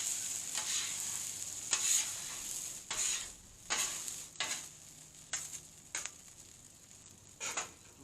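Shrimp fried rice ingredients frying in a pan, a close, steady sizzle broken by repeated scraping stirs and clanks of a utensil against the metal about every second.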